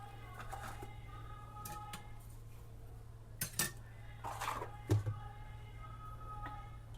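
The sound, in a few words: washing dishes in the kitchen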